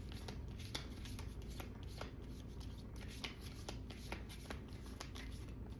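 Quiet, close riffling and shuffling of a deck of cards, with repeated soft snapping bursts over a faint background hiss.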